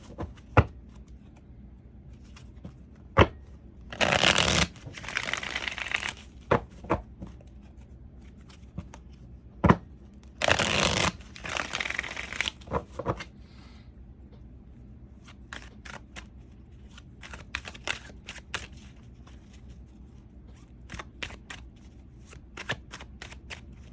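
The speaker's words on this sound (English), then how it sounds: "One more good shuffle, and then we're going to cut these bad boys." A deck of tarot cards is riffled in two loud, crisp bursts of shuffling, with scattered softer clicks and taps of the cards being handled in between.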